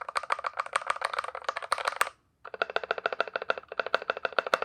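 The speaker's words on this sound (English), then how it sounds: "So in this RK68 keyboard, I have the Acco Matcha Green switches, which are a linear switch." Fast typing on an RK68 keyboard fitted with Akko Matcha Green linear switches, a dense, close clatter of keystrokes in two bursts separated by a brief pause.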